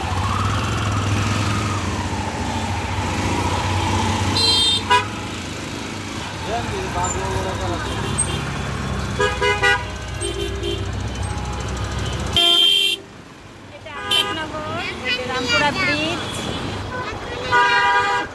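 Heavy jammed traffic near Rampura Bridge in Dhaka, with engines rumbling and repeated car horns honking at intervals, some loud and close, while someone talks over the street noise.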